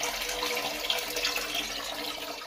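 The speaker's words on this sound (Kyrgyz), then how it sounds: "колодецке су толуп, азыркы учурда колодецке су толгону менен тияка суу агып атат." Water flowing into a well as it fills, a steady close rushing and gurgling stream with no speech.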